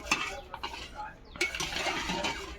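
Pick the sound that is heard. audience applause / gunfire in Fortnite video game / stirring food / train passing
stirring food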